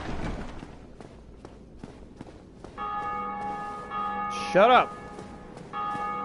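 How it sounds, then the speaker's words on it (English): A bell in the Dark Souls video game rings repeatedly with bright, sustained metallic tones that swell and return, heard over footsteps and game ambience, while someone shouts briefly. "Stop ring-a-linging your bell."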